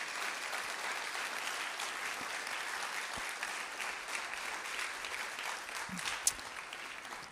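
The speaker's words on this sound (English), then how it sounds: "Give him a round of applause, please." Sustained audience applause at a university lecture series event welcoming an NPR journalist to the stage, steady broadband clapping filling the hall for several seconds with a few louder isolated claps.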